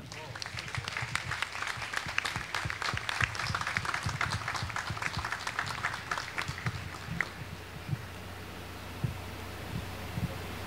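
Applause from the congregation at a closing Mass of the Festa de São Pedro in Cachoeiro de Itapemirim, honoring bishops, priests and service teams; dense clapping fills the first seven seconds, then fades to a low murmur with a few stray claps.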